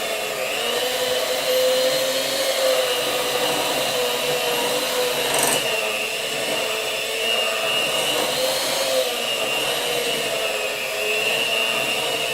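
Electric hand mixer beating pumpkin cookie dough: a steady, loud motor whine that runs without pause throughout, with slight shifts in pitch as the beaters move through the dough.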